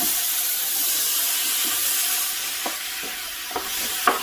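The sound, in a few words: vegetables sizzling while cooking in gumbo roux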